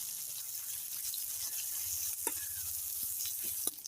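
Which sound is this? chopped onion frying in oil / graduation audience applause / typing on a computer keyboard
chopped onion frying in oil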